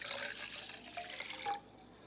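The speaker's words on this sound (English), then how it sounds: "when we pour this water into this cup" Water poured into a cup during a classroom science demonstration, a short splashing, trickling pour of about one and a half seconds that stops abruptly, with no talk over it.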